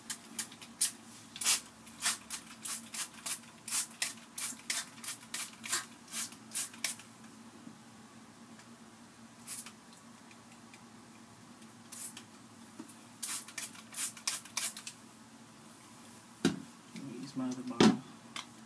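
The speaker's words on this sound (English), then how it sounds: "And I just spray it all over my locks" Quick hissing bursts from a spray bottle fire in a rapid run over hair locs, pause, then resume in scattered pumps close by.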